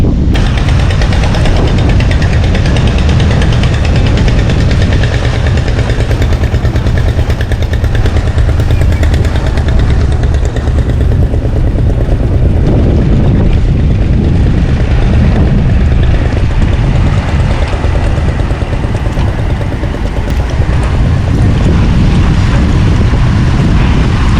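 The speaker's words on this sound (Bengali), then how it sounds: "যেই ফেরিটা ওপারে গিয়েছিল ওটা এখন আবার আসছে এখানে" The Budge Budge to Bauria river ferry roars loudly and continuously, its engine drone mixed with heavy wind buffeting the microphone throughout.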